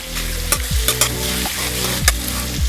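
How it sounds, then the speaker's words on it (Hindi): Vegetables stir-frying over high flame in a pan for chana dal pulao, a steady sizzle broken by several scraping spatula strokes against the metal, close and loud. "अपने वेजिटेबल्स को भी थोड़ा आप फ्राई कर लीजिएगा"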